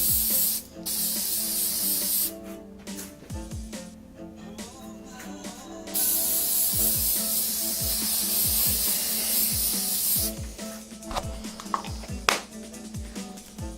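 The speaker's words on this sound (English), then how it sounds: "And I did say like spray from 11 inches away or something." Aerosol spray coating hisses in several long bursts over a waterslide decal on a guitar headstock, with short pauses and clicks between sprays, close and fairly loud.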